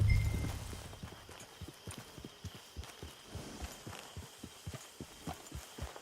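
Horse hooves in the Red Dead Online video game clop at a steady walking rhythm, a series of soft regular thuds following a brief louder rumble at the start, fairly quiet and alone.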